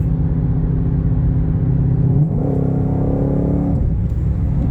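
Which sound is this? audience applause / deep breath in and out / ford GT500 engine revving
ford GT500 engine revving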